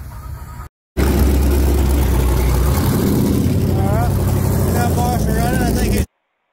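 A 5.3 drag car on a 150-shot of nitrous at Kentucky Dragway, a loud, roaring engine run after a brief cut, with the pitch climbing as it accelerates, the sound close and saturated.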